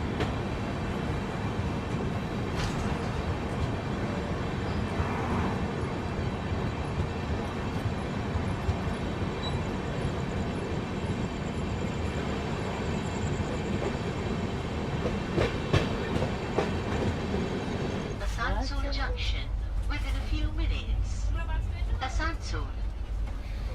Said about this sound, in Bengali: ট্রেন কিন্তু ছেড়ে দিল দুর্গাপুর